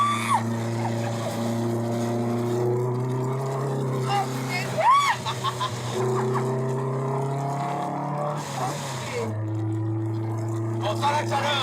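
A car being driven on a race circuit, its steady engine drone holding a constant pitch with rising whines, while people talk in French over it.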